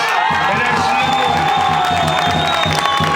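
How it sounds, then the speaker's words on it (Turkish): Outdoor crowd of neighborhood residents cheering, whooping and clapping for a Bergama mayoral candidate at a campaign visit, with loud continuous cheers, shouts and rhythmic clapping over a band of sustained horn or whistle tones. "Hepimiz Sanju Bey'i bir kere daha kuvvetli alkışlar mıyız?"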